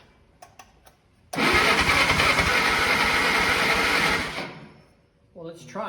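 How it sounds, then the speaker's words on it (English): The engine of an old Lo-boy Farmall tractor cranks hard for about three seconds in a loud, close, rapid chugging whir trying to fire, then dies away, with brief voices before and after. "So that's, I can hear it trying to fire."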